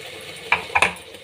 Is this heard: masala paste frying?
yes